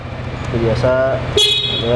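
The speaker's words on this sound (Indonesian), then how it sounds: "biasa klakson" A short, bright scooter horn beep sounds up close, heard alongside someone talking and a low engine hum.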